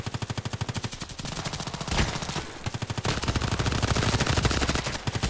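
Rapid automatic gunfire in the online shooter Contract Wars, loud and close, with long sustained bursts of evenly spaced shots and a brief pause in the middle.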